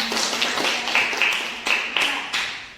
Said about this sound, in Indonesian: berikan aplaus untuk Salom